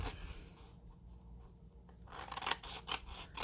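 Paper being cut with scissors, close and quiet, with a series of crisp snipping and slicing strokes, a brief pause, then several more quick cuts.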